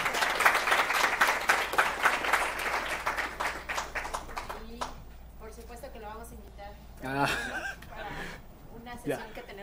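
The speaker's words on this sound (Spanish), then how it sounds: "Le vamos a dar un aplauso." Audience applause after a presentation at a talk on migration policy: a dense burst of clapping for about four seconds that fades out, followed by people talking with some light chuckling.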